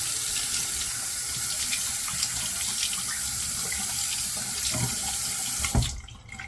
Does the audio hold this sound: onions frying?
no